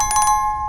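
A short, bright notification bell chime rings in a quick burst of about four rapid tinkling strikes, then a clear sustained tone fades out, close and alone.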